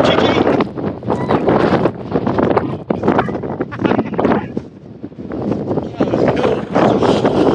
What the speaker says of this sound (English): Gotta fight the wind now, Chichi, eh?